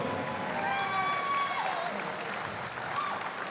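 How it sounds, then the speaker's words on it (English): A crowd claps steadily at a Brazilian jiu-jitsu pro event in Ireland, dense continuous applause filling the room, with a few faint whistles or cheers riding over it. "Please give a big round of applause, everyone, again, for Barney Coyle."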